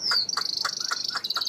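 A tame caged songbird with a yellow beak and yellow feet sings up close, a rapid string of bright, rhythmic whistled notes with a sustained high tone running through them.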